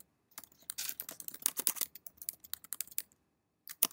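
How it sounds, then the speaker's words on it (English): Fast typing on a computer keyboard, a close, quiet run of crisp key clicks in irregular bursts with brief pauses. "So let's just type in something for Sam."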